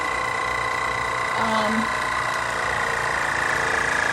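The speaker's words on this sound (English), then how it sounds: "And then I hit vacuum seal." A vacuum sealer motor drones steadily at close range, a continuous loud whirring hum with a constant tone from start to finish.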